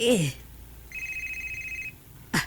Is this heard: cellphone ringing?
yes